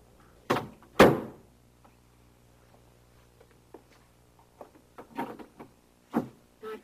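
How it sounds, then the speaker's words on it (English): A door shutting with two solid thuds close together, followed by softer clicks and knocks as it is locked, then a few more light bumps. "Lock the door."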